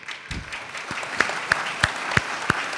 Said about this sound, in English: Extra thanks to Brian for starting the applause.